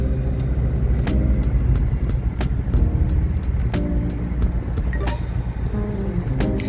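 Old-generation Ford Sierra 2.3 diesel engine idling steadily, a continuous low rumble with a few faint clicks on top, close and even throughout.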